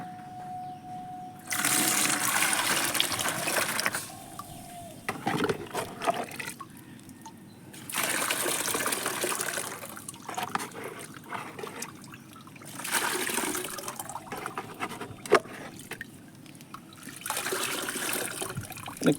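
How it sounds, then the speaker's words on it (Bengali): Liquid cow dung fertilizer poured and strained through hardware-store wire mesh, with bursts of splashing and trickling water separated by short quiet pauses, close by. "এটাকে আমরা ছেঁকে নেব, এইভাবে ছেঁকে নেব।"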